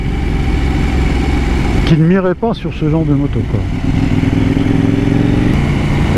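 KTM 790 Duke motorcycle engine running at low revs, a loud close, rough and slightly knocking throb that continues steadily under someone talking.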